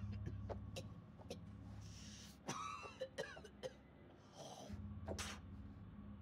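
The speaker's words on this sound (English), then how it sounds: "That's a nasty cough." A few rough coughs and throat-clearing sounds in a video game, spaced out over a low steady hum, fairly quiet and close.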